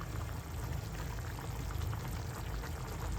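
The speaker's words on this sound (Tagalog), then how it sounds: "Patis na lang idagdag natin para medyo malasas." Fish sauce is poured into a pot of ginataang gulay with salmon, a steady soft splashing and bubbling that runs continuously at close range with no voices.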